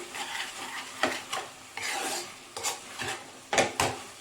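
Spinach fry being stirred in a pan with salt and turmeric, a spoon scraping and clanking against the metal in repeated strokes over a steady close sizzle, with no talking.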